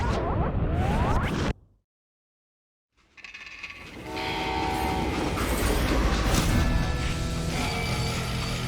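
A freight train in the video game Call of Juarez: Gunslinger rolls along with rattling wheels and a horn blast, broken by a sudden stretch of silence before the rumbling and clatter resume.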